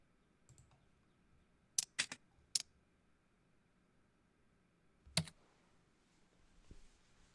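Casual computer keyboard typing as an ambient cue: a few scattered, quick key clicks in short bursts separated by quiet pauses, faint and close.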